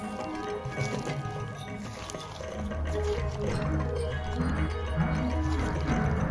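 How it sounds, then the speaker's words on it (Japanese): Shrimp being rinsed in water after rubbing with potato starch, a continuous splashing rush of running water with swishing hand movements, close and steady, growing louder midway, no talking. "片栗粉がぬるぬるしてきますので、そうなったら水で洗います。"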